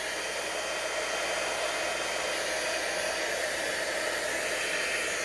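A heat tool melts sparkly embossing powder with a constant close, airy blowing hiss that holds at an even level with no breaks and no voices.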